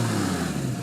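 A 2008 Porsche Boxster engine runs steadily up close, a loud, even low hum with a constant tone across the brief moment and no voices over it.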